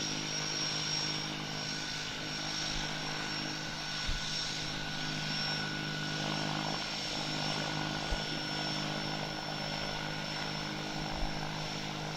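A Pilatus PC-7 turboprop aircraft hums steadily at an airshow departure, a continuous droning engine tone at moderate distance with faint occasional thumps.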